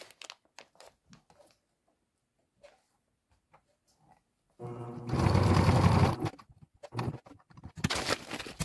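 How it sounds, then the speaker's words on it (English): Sewing machine running a diagonal box stitch across a strap on a homemade food bag for bear hanging, a steady mechanical burst of about a second and a half loud and close, then brief handling rustles. "Now we're going to do our diagonal box stitch."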